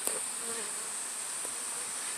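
Honey bees droning steadily at a beehive during a summer feeder setup, a continuous faint buzz with a high insect whine and no voices.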